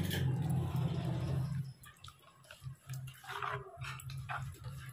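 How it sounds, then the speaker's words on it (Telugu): Water poured into a thick yogurt-based curry (perugu pulusu) in a home kitchen, a steady splashing pour for the first second and a half, then stirring and small clinks. "కొంచెం వాటర్ యాడ్ చేసుకుందాం"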